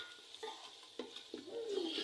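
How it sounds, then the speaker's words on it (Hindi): Soft sizzling and stirring of spice paste in a pan, with a few scraping clinks of a spoon against metal over a steady frying hiss. "तो मेरा मसाला भूज रहा है।"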